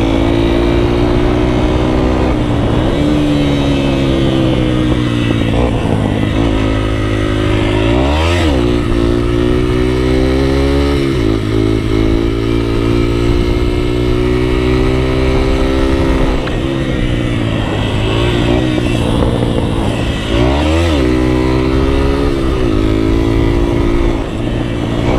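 Yamaha XTZ 125 motorcycle engine running loud and close, a steady idle with several brief throttle blips rising and falling throughout.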